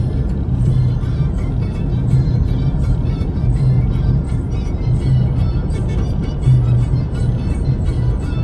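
Steady low road roar and engine drone from a car driving through a long tunnel on the Samruddhi Mahamarg expressway near Igatpuri, continuous and loud with a faint echoing wash and no talk.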